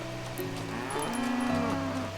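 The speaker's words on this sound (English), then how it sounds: "Nope, I hear cows." Cows mooing in the farming video game Coral Island, a long, low, drawn-out bovine call with shifting pitch, steady and moderately loud over soft ambient game sound, no voices.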